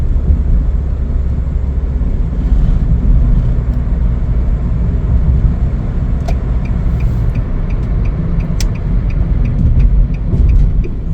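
Cabin sound of a 2017 Chevrolet City Express LS cargo van on a test drive: a loud, steady road and engine rumble throughout, with a few faint clicks and ticks over it and no talking.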